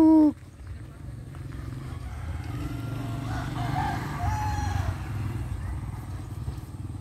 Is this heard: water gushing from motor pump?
no